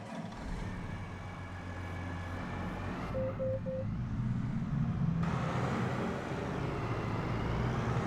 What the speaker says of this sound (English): Okay, I am going to go ahead and get a tractor.